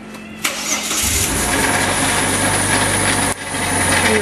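A Ford Territory engine cranks and catches, then settles into a loud, steady run carrying a suspect noise, with a brief dip in level near the end.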